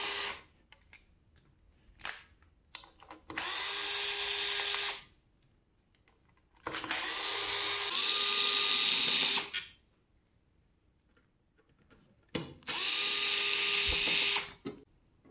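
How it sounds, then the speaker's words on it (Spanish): Cover screws are removed from a Xiaomi electric scooter with a cordless drill, heard as three sustained whirring runs of the motor, each a few seconds long, with small clicks and handling noises in between. "Quitamos los tornillos de la tapa."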